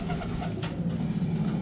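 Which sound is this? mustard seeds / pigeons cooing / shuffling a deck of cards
pigeons cooing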